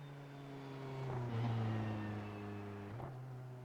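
A race car in a sports car racing video game rolls down pit road on the pit limiter, a steady buzzing engine drone held at constant pitch, with a brief swell midway and a small step near the end, fairly faint.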